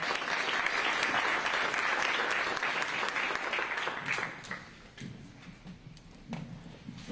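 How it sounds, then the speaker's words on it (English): An audience applauds Dr. Dave Richards at a Lynchburg City Council panel event, sustained loud clapping filling the room for about four seconds before thinning out into scattered claps and quieter room noise. "Let's give Dr. Dave Richards a big round of applause."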